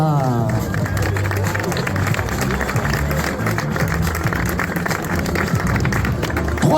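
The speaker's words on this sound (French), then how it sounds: "Applaudissements pour Sandrine Etienne." Outdoor crowd applauding a female Granfondo cycling finisher at the podium in the Vosges, steady clapping mixed with crowd murmur and voices, fairly loud throughout.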